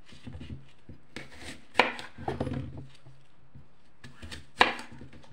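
Knife chops green leaves on a cutting board, irregular bursts of quick cuts with short pauses, close and clear, no talking.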